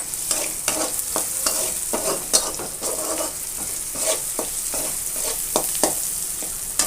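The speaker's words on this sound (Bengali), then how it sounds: "হালকা একটু ভেজে নেব, পেঁয়াজটা কাঁচা কাঁচা থাকলে ভালো লাগবে।" Onions frying lightly in a pan give a close, continuous sizzle, punctuated by frequent rhythmic scrapes and taps of a spatula stirring, with no voices.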